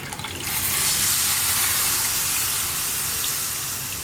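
Tamarind water gushes steadily into a pan of Kerala ginger curry (puli inji), a continuous close pour with a splashing, hissing wash and no talk.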